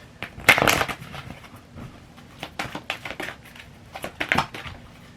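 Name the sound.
shuffling tarot cards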